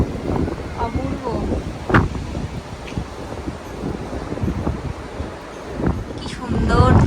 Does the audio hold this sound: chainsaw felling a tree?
no